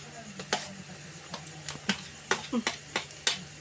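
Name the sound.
garlic frying in hot oil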